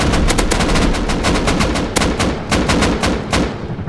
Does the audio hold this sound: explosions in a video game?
yes